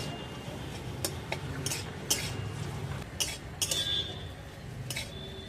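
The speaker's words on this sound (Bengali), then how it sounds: "এরপর লেড়ে চেড়ে বেশ সুন্দর করে বাঁধাকপি রোলের জন্য পুরটা তৈরি করে দিচ্ছি।" A spoon stirs cabbage roll filling with kasuri methi in a pan, giving soft scraping and scattered light metallic clinks at an uneven pace, close and fairly quiet.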